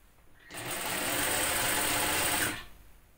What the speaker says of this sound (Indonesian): Nah yang ini baru kita matikan jahitannya ya, untuk awal dan akhir saat ngejahit